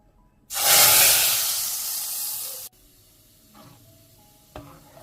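Burnt butter with red pepper hits hot soup in a loud, bright sizzling burst lasting about two seconds, then fades abruptly to quiet kitchen background with a faint clink near the end.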